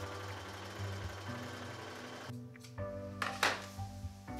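A sewing machine stitching a large dress, with a steady close mechanical hum and rapid needle chatter that stops partway through, followed by a few softer clicks and handling noises. No one speaks.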